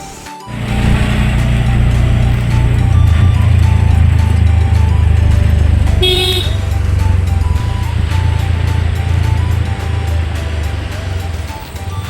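A Maharashtra state transport Lalpari bus drives along a road on a hot day, its diesel engine a loud, steady low rumble with rattling, heard from inside the bus.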